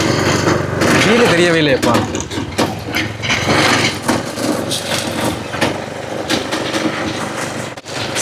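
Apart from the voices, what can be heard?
homemade hydraulic tipper vehicle engine started and running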